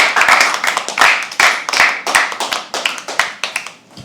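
Close, loud rhythmic clapping for the poet Kajal at a live poetry open mic at The Habitat, a small group's hands striking in a fast, uneven burst that trails off after about four seconds.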